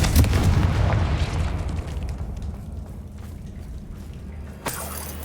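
A Confringo fire spell bursts in the Hogwarts Legacy video game as a loud booming blast at the start, rumbling and fading over several seconds, then a second sharper burst near the end.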